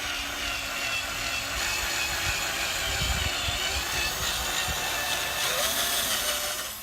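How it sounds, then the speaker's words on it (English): A steady, loud mechanical whine of a power drill drilling holes during a Boatlogix install, running continuously, with a few low thumps as the bit works through material; no voices. "we'll drill all these out"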